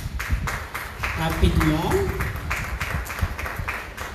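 Audience applause at a higher-education and careers fair in Senegal, steady broadband clapping for the full span with a voice speaking briefly over it in the middle.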